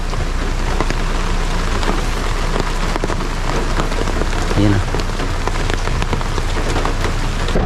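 Heavy rain pounds a car while driving, a loud, dense, continuous drumming of drops on the body and windshield with road rumble underneath; a person speaks briefly over it.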